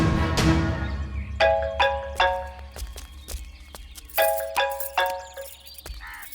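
An electronic phone ringtone plays in short bursts of three bright chimes, pauses, then repeats. No voices.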